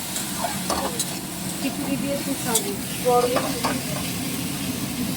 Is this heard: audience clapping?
no